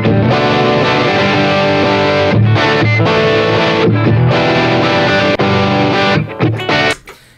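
Looped guitar recording played back through effects, dense sustained distorted chords repeating, with a brief gap in timing where the loop restarts before the sound trails off at the end.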